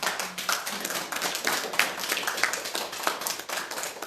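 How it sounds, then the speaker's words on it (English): Steady applause from a small crowd at a book launch, many hands clapping continuously at moderate volume with no voices. "a big round of applause"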